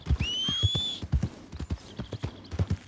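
A horse in Red Dead Redemption 2 lets out a high, drawn-out whinny near the start, followed by a quick, rhythmic clip-clop of galloping hooves that continues to the end.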